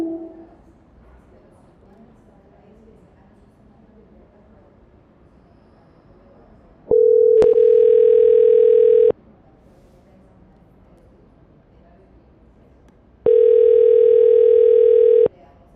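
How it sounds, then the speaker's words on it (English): Two steady electronic tones on a phone call to voicemail, each lasting about two seconds with a pause between them, clear and close over a quiet line. "At the tone, please record your message."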